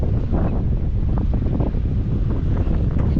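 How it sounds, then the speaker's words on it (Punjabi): A strong gusting wind rushes across open farmland, buffeting the microphone with a loud, continuous low roar that has no voices over it. "ਨੇਰੀ ਤੇਜ਼ ਹਵਾ ਮਾ ਚੱਲ ਪਈ"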